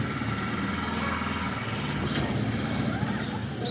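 Tuk-tuk engine fitted to a homemade motorcycle-style vehicle, running with a steady, buzzing mid-pitched drone at close range, with faint voices in the background.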